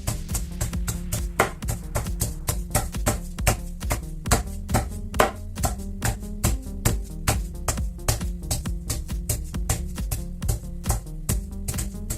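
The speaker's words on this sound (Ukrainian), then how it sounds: "викладуємо гриби і накриваємо їх плівкою. І починаємо бити." Rapid, steady pounding thuds as oyster mushrooms covered with plastic film are beaten on a board, dozens of firm regular blows repeating close by with no talking.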